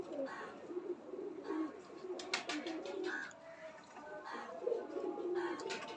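A breeding pair of pigeons coo softly in short, repeated throaty bursts, quiet and close, with a few sharp clicks and rustles between calls.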